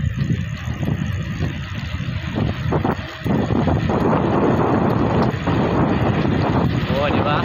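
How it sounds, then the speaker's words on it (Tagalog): Strong wind buffets the microphone during a fast downhill ride, a heavy continuous low rumble that stays loud throughout, with voices heard through it. "Hangin na literal"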